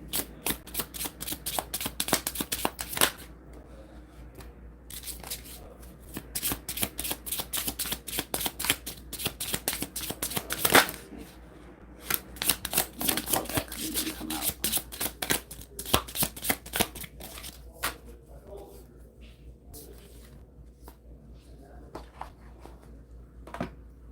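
Tarot cards being shuffled by hand during a live reading session, long bursts of rapid riffling and flicking close up, pausing briefly and starting again over about twenty seconds, with no speech.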